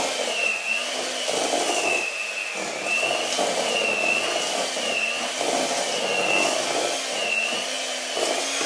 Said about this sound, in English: And here I go with my mixer.